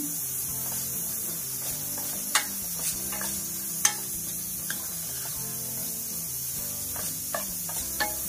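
Egg fried rice with vinegar and green chilli sauce being stirred in a pan: a steady sizzle with scattered sharp scrapes and clicks of a spoon against the pan, close and without talk.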